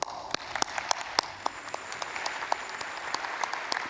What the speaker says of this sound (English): let us give a final round of applause for all the awardees